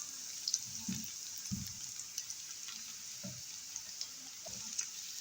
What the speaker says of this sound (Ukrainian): і обжарюємо до готовності